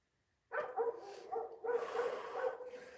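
A dog barks and grumbles in a run of drawn-out, vocal woofs and whines, close and fairly loud, after a moment of near silence.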